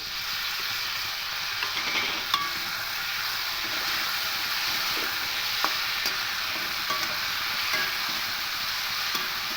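Tomato paste frying in a pan with potatoes, sugar and spices for a vegetarian moong posto dish, a constant loud sizzle with scattered clicks and scrapes of stirring.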